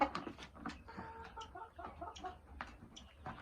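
A small flock of Australorp hens clucks close by, short overlapping clucks and murmurs in quick succession with no voices.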